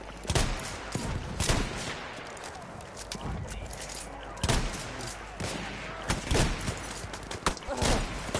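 Gunfire in the Battlefield 1 video game, a steady barrage of loud sharp shots and rapid volleys throughout, with a voice talking over the shooting.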